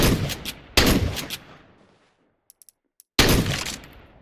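Negev light machine gun in Counter-Strike 2 firing loud, close bursts: a sustained volley, a second burst that tails off, a few faint clicks in the quiet, then another heavy burst of rapid fire.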